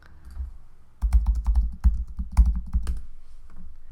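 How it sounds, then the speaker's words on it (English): Close, quiet typing on a computer keyboard while entering text in design software: a brisk run of individual key clicks with a few heavier taps, and no talking. "now I can type text and look for that Road Ahead."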